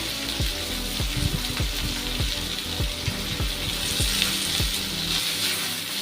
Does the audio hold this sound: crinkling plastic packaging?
no